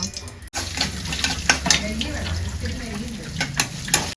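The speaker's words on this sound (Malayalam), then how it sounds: "നെയ്യിലിട്ട് തേങ്ങ വറുക്കാം" Coconut sizzles in hot ghee, a constant frying crackle with occasional scraping stirs and clinks of a utensil against the pan.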